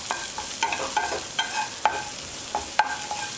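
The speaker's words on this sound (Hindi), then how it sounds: "सेम पैन में बिना कोई घी ऐड किए अभी हम डाल देते हैं किशमिश।" Raisins dry-roasting in a pan without ghee, heard as a soft frying hiss broken by repeated light scrapes and clicks of stirring at an irregular pace, close and alone.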